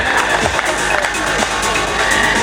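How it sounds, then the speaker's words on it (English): Crowd cheering for Team Pink at a film challenge launch event, a steady roar of voices with scattered claps and shouts throughout, loud and close. "Team Pink, cheer again."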